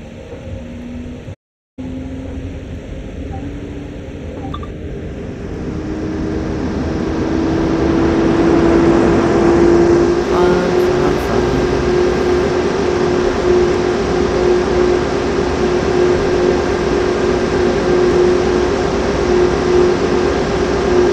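A German train in Train Sim World 2020 begins to roll, a low steady rumble slowly swelling as a rising tonal whine builds and holds, continuous and fairly loud with no talking.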